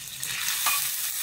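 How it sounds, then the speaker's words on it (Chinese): Pork tongue with scallion, ginger and garlic stir-fried in a wok, a steady hiss of sizzling oil with light scraping and tossing, fairly close and alone. "翻炒至猪舌六成熟"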